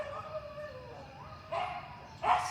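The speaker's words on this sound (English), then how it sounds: "As you can hear, my neighbor's dogs are having a good time over there." Neighboring dogs bark and yip outdoors at a middle distance, with a whining tone at first and then two sharper barks toward the end.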